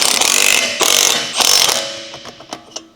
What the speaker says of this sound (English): Use a 1/2-inch 19mm deep socket with an electric impact wrench to tighten the lug nuts.